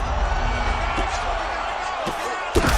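Heavy punches landing in a UFC 5 fight, a few dull thudding impacts spaced irregularly over a continuous roaring crowd, with a commentator talking throughout.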